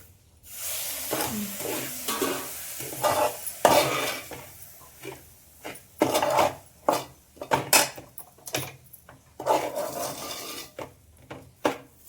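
A beetroot laddu mixture with coconut pieces and beetroot juice is stirred in a pan, with irregular close scraping and clattering strokes that come in bursts separated by brief pauses.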